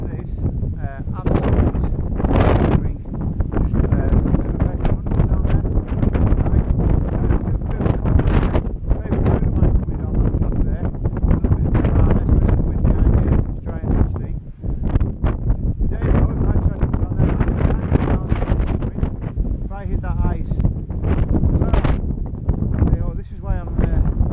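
Strong wind buffeting a microphone outdoors on an icy hillside, a loud continuous roar with heavy gusts throughout, while someone talks over it.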